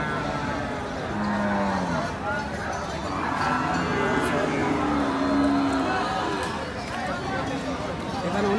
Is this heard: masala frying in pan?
no